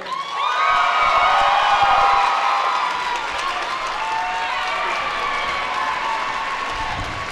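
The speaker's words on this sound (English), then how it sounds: "give a big round of applause, huge cheers for Josh Petersdorf" Convention crowd at an anime event cheering and applauding for Overwatch voice actor Josh Petersdorf, a loud swell of clapping with shouts and whoops that holds steady across several seconds.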